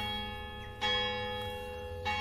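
Church bells ring out with two distinct strokes, each a loud metallic clang that leaves a long, sustained hum of overtones hanging in the quiet air.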